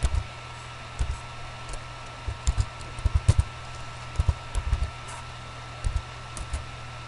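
Scattered keyboard typing, with short bursts of keystrokes and single taps separated by pauses, close and fairly quiet, no voices.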